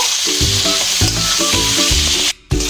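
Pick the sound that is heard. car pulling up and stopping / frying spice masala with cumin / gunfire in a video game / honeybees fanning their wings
frying spice masala with cumin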